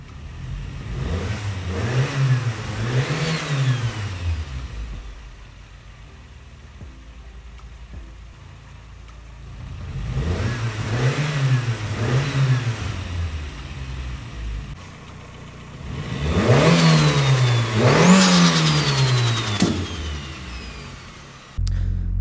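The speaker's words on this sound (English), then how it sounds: "So I turned on the car and revved it a bit, and lo and behold, we make boost." A turbocharged Toyota 4AGE 20V four-cylinder revs up three times in separate bursts, each rising and falling, the last one the loudest and highest, with idle in between and no talking.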